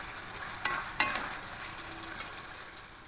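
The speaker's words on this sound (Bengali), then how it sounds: "খুব ভালো করে আরও 5 মিনিট একটু কষিয়ে নেব" Spices are sautéed in a pan with bay leaves and green chillies for a fish and potato curry, giving a steady low sizzle broken by a few sharp utensil clicks against the pan, close and quiet.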